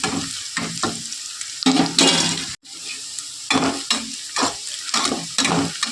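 Cauliflower and potato curry ingredients fry in a pan, with a continuous sizzle broken by repeated bursts of stirring and scraping, fairly loud and close, with no voices.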